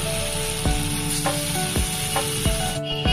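Tofu pieces frying in a wide pan, with a constant close sizzle and a few sharp scraping clicks from a spatula against the pan at irregular intervals.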